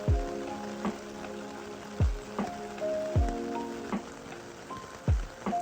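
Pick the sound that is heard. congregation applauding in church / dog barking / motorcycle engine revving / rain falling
rain falling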